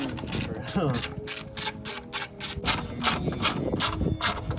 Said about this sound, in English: But first, let's take off that cover. Long ass screws.